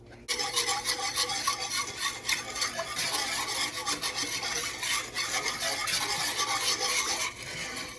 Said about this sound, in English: Just keep stirring it with your whisk.